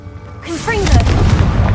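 A Confringo blasting curse fires in Hogwarts Legacy with a loud, close boom and a heavy rumble that follows a short rising whoosh, while a voice speaks just before the blast.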